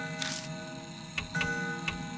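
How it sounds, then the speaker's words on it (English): Antique grandfather clock ticking in a video game, a few soft, evenly spaced ticks over a faint steady tonal background hum, no talking. "It's an antique grandfather clock."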